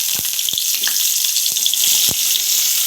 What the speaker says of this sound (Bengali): এইবার আমরা ফুলকপিটা ভেজে নেব। এইবার আমরা একে একে ফুলকপিগুলি দিয়ে দেব।